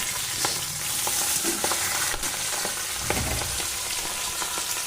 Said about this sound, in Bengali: মাছটাকে খুব ভালোভাবে এপিট ওপিট করে আমি ভেজে নেব।